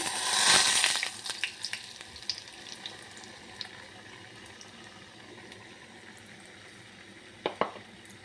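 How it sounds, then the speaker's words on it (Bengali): Batter is poured into a pan of hot refined oil, a loud burst of sizzling hiss at first that settles into a quieter bubbling fry with a few sharp clatters near the end. "দেখো এবার আমি ব্যাটারটা দিয়ে দিচ্ছি"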